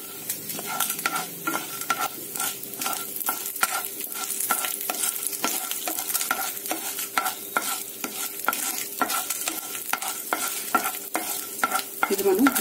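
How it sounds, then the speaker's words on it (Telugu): Black peppercorns and dried red chillies fry over a medium flame for kootu masala powder, with soft continuous sizzling broken by regular, close scraping strokes of a stirring spoon in the pan. No one speaks. "మిరియాలు కూడా వేగిన తర్వాత ఎండుమిరపకాయలు వేసేసేద్దాము"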